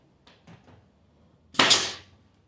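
An 18 gauge nail gun drives a 1.5 inch nail while a small desk is being built: a single sharp, close pop, preceded by a few faint taps of handling.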